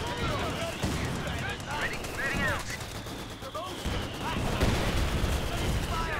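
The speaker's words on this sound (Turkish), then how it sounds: "Hala mortar basıyor." Mortar fire in Company of Heroes 2 booms through a dense, continuous battle soundscape of gunfire and bursts, while voices talk over the din throughout.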